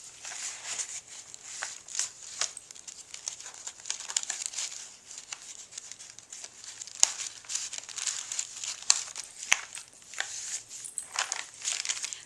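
Paper and plastic packaging is handled up close, giving soft, irregular crinkles and rustles with a few sharper crackles and taps, quiet and without talk.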